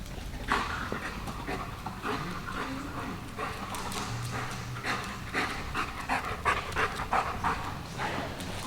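A dog panting and sniffing as it searches for a scent during scent work training, quick rhythmic breaths with scattered paw steps and small whimpers, close by and without talking.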